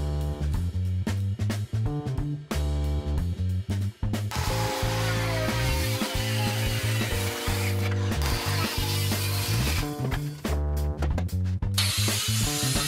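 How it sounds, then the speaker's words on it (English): An angle grinder chamfering the edge of log furniture, a loud close motor whine with a steady mechanical tone that roughens and shifts pitch as the disc bites into the wood, running continuously without speech. "To achieve the perfect chamfered edge, tilt your angle grinder on a 45 degree angle and make one pass."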